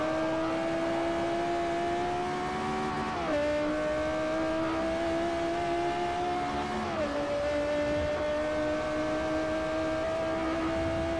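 A Lexus race car engine in the Forza Motorsport 4 racing game drones steadily at high revs for the whole stretch, with two brief dips in pitch at gear changes and no voices.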